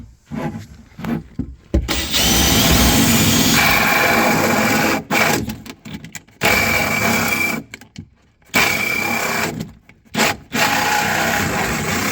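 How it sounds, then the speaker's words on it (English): A loud power drill whines in several bursts, starting and stopping with short pauses, close by and grinding through material, drilling a small hole for dishwasher hoses during a Samsung dishwasher installation. "the second step is to drill a little hole here as well to fish out the hoses"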